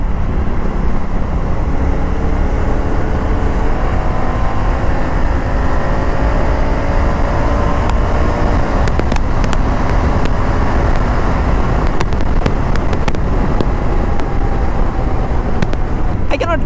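A Honda Africa Twin motorcycle ridden at high speed gives a steady, dense roar of engine and wind rushing past, constant and loud throughout with no pauses.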